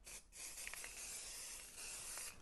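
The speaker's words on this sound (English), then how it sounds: "I'm going to spray down into the bin." Repositionable stencil adhesive sprays from an aerosol can down into a bin, a soft steady hiss lasting a couple of seconds with brief gaps, faint and close.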